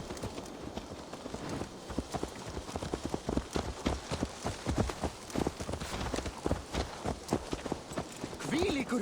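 A horse's hooves clip-clop in a steady, repeated walking rhythm in the Assassin's Creed Valhalla video game. The moderate, close hoofbeats continue throughout, with faint background ambience and a voice near the end.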